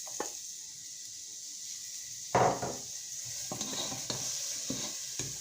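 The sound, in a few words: onion sizzling as it browns in a pot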